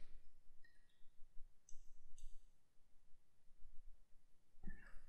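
A computer mouse clicks a few times at a desk while an email with file attachments is sent, short faint clicks scattered over quiet room noise with no talking.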